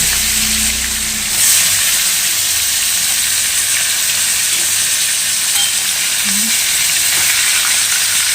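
Koi fish frying in hot oil in a pan, giving a steady, loud crackling sizzle that continues throughout with no talking.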